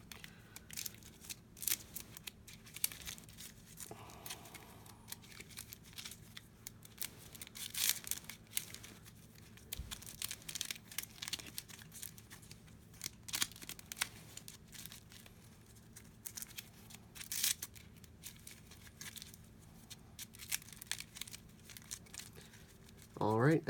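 Repeated crisp riffling bursts of cards being shuffled during a tabletop board game, scattered through the clip, with quiet talk in the background.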